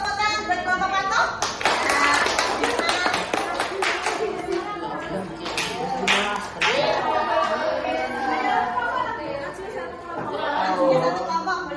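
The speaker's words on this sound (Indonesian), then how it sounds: "tepuk tangan buat kelompok patuh." A classroom of students claps for a group amid lively chatter, a burst of scattered, fairly close handclaps early on giving way to continuing voices.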